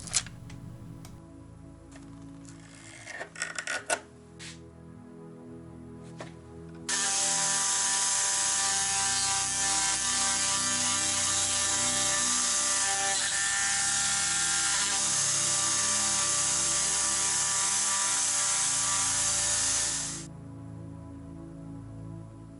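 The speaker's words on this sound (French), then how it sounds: "J'utilise une ponceuse excentrique avec des grains de plus en plus fins." A random orbital sander polishing forged steel whirs steadily and loudly for about thirteen seconds after a few short clicks and bursts, then cuts off into quiet.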